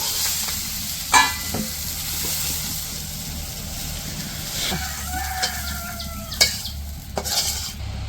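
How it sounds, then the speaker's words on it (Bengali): Onions and green chilies frying in oil in a kadai in a village kitchen, a steady close sizzle with occasional sharp stirring clinks and scrapes of a utensil against the pan. "কড়াই তেল দিয়ে দিল, পেঁয়াজ আর কাঁচামরিচ দিয়ে দিল।"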